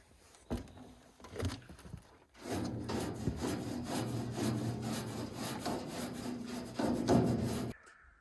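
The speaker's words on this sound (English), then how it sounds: "we'll clean out all this dust with the trusty brush first" Close, steady scrubbing of a stiff brush across a dusty metal grate on a tractor, two short strokes first, then a long continuous scrub that stops abruptly.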